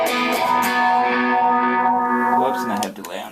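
An electric guitar chord rings out with a slow swirling phaser sweep shifting its tone, fading near the end.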